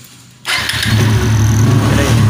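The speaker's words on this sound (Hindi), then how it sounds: "अब आपको एक बार गाड़ी को स्टार्ट करके ब्रेकिंग चेक करवाते हैं" After a brief quiet moment, a TVS Apache RTR motorcycle engine fires up abruptly and settles into a loud, close, steady idle with a firm low hum.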